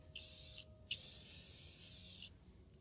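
Tire shine sprayed onto a tire over an earlier coat, heard as two close bursts of aerosol hiss, a brief first spray and then a longer steady one of about a second and a half, loud and alone.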